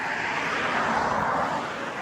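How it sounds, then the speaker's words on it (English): A three-wheeled motorcycle's engine drones past nearby in a small town in Bar Harbor, Maine, swelling louder and then easing off in a steady rumble. "Wow, look at that motorcycle adore."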